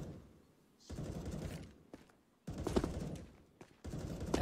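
Gunfire and grenade blasts in a Counter-Strike match on the Inferno map, with bursts of rapid shots in three loud clusters separated by brief quieter gaps, no voices.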